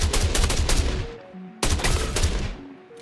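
Rapid bursts of S-71 rifle gunfire in the video game Star Citizen, two loud volleys of closely spaced shots, each decaying into a short ringing tail, with brief electronic tones between them.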